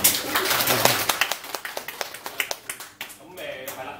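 Audience clapping at an indoor lecture on Chinese name studies: scattered, sharp handclaps that come close together at first, thin out and fade within a few seconds, with a voice talking afterward.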